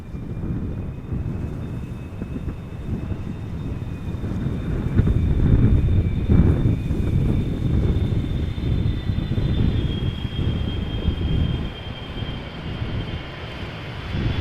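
Airliner landing at Amsterdam Schiphol Airport in strong wind, a low roar of engines and rumble swelling mid-way under steady wind buffeting, with a faint high whine running throughout.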